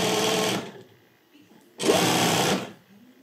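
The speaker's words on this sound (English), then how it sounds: "the only thing you hear is the needle going up and down when you're sewing" A quiet sewing machine fitted with a replacement clutch motor runs in two short bursts of rapid needle stitching, separated by a pause with faint room noise.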